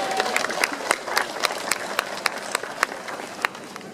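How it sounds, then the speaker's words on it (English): An audience at an aquarium dolphin training show claps in a scattered, thin patter of sharp hand claps, moderately close, with no cheering or talk over it. "Let's give another round of applause for training in action."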